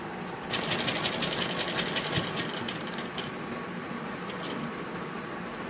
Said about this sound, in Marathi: इथे डबल डबल शिलाई मारायची म्हणजे मास्क घातल्यानंतर पण इलास्टिक ताणल्यानंतर निसटणार नाही.